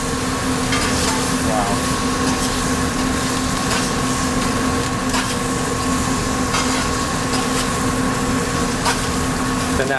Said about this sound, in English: we're basically kind of deep frying the top with this butter and herbs